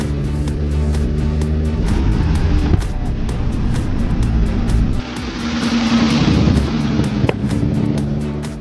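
A restored Ferrari 250 GT V12 engine roars on a road test, loud and continuous, with a rising and falling pitch as it revs and a brief dip midway, no voices.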